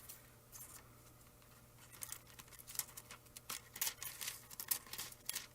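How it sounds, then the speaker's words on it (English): Faint scissors snipping through material, a few quiet cuts at first, then a quicker run of crisp snips near the end. "I'm just gonna take the scissors to this."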